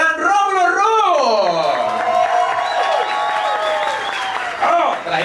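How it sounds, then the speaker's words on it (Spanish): A loud studio audience applauds and cheers to welcome a guest on a talk show, with sustained clapping under whoops and shouting voices that rise and fall throughout. "con un fuerte aplauso vamos a recibir al gran Romulo Roo"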